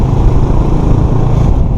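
KTM Duke 250 motorcycle engine, 2017 model, running steadily while being ridden in Bangalore, a loud continuous low drone with wind rush and no clear rev changes.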